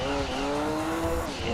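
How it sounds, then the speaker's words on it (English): Turbocharged race car engine in Gran Turismo 2, a loud steady drone with shifting harmonic whine throughout, with faint tire noise. "Listen to that turbo."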